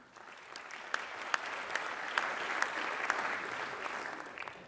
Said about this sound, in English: I think that our sovereign donors deserve the applause